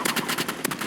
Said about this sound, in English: I got the flare gun.